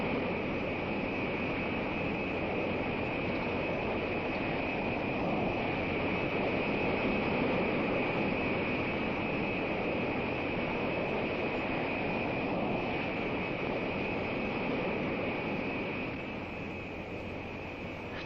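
NASA X-15 rocket-powered aircraft in high-speed flight, a steady broad roar with a constant hum running underneath, unchanging in level for the whole stretch before easing slightly at the end, with no voices.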